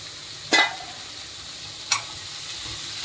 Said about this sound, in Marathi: आता मी हे चवळी टाकून देते